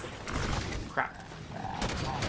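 Scattershot rifle fire in Halo 5 Warzone: a few sharp, crackling bursts, one louder near shot around the middle, over steady game noise and background din.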